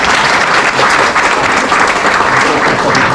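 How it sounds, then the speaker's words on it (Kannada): A large seated audience claps steadily and loudly in welcome at a 114th Foundation Day gathering of Central Bank of India retirees in Bangalore. The dense applause holds without a break for about three seconds. "ಅವ್ರಿಗೆಲ್ಲರಿಗೂ ನಮ್ಮೆಲ್ಲರ ಪರವಾಗಿ ಒಂದು ಚಪ್ಪಾಳೆ ಹೊಡೆದು ವೆಲ್ಕಮ್ ಮಾಡಿ"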